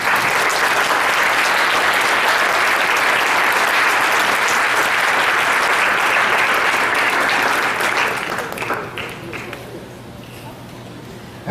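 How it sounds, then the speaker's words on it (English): Sustained audience applause at a school winter celebration, loud and dense for about eight seconds before thinning out and fading toward the end. "Please stand up and give them a round of applause."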